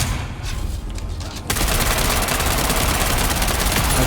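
Video game gunfire in a Deep Desert PvP dungeon, first SMG and then shotgun shots, heard as loud, dense, rapid bursts that run almost continuously and grow harsher and fuller halfway through, with no talk.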